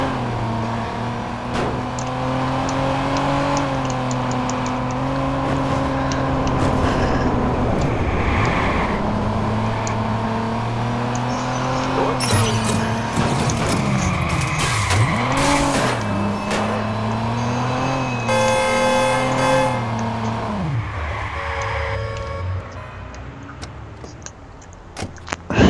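Car driving in the Watch Dogs video game, a sustained engine drone that rises and falls as it revs and shifts, with brief swooping dips, screeches and clattering impacts, mostly without talk.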